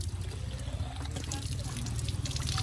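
Water pours and trickles steadily into containers while drinking water is collected in Bangdel, Phidim, Panchthar, with a constant low rumble beneath the flow.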